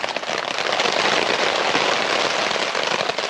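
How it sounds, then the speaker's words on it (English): Heavy storm rain pounding on a camping tent, a loud, dense, continuous drumming and crackle of drops on the fabric heard from inside, with no voices. "It did say heavy rain, but it's like storm conditions out there now."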